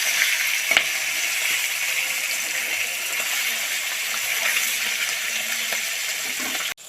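Pieces of chital fish frying in hot oil in a kadai give a steady, even hiss of bubbling oil with a few faint pops, constant throughout and with no voices.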